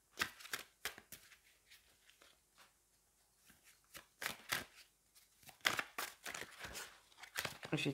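Tarot cards being shuffled and drawn at close range, a run of soft crisp riffles, flicks and slaps in uneven bursts, fairly quiet with no talking.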